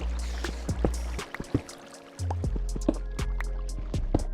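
Flowing water in Minecraft trickles and gurgles steadily with soft, repeated drip-like plinks, heard alone without talk, a low continuous wash briefly dropping out before resuming.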